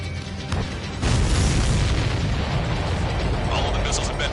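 Missiles explode in the Ace Combat 7 flight combat game, a heavy boom hitting about a second in and then a sustained rumbling roar of blasts layered over jet noise.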